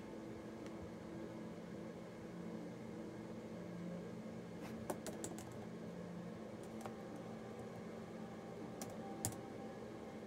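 Keys click on an Apple keyboard case in short, light bursts over a steady low room hum, with sparse taps in the second half of the recording.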